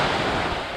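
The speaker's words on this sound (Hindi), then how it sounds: "सो अभी हम बैठे हैं समुद्र के किनारे, जो एक बहुत ही पीसफुल नज़ारा है" Sea waves washing onto the seashore at Rameswaram on Pamban Island, a steady broadband surf wash with some wind rumble, continuous and fairly near, with no talk.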